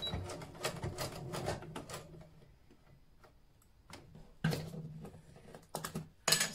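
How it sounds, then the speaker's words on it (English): A domestic sewing machine stitching a fabric book bag, running in quick ticking bursts with a slightly clunky rhythm, separated by pauses and nearby handling noises. "So I'll just stitch this very quickly."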